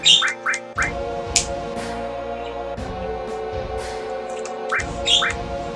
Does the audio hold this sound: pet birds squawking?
yes